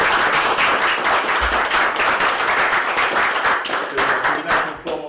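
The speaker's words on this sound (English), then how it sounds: "please give us a round of applause for our guests" A room of audience members claps for guests at a film Q&A session, steady, fairly close applause that gradually thins out toward the end.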